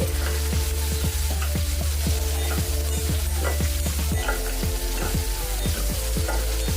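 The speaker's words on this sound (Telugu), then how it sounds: "ఇది ఒక 2 మినిట్స్ పాటు ఫ్రై అవుతామండి ఆనియన్స్ని" Steady, close sizzling of onions frying in hot oil for Punjabi-style palak paneer, with repeated clicks of a spoon stirring in the pan.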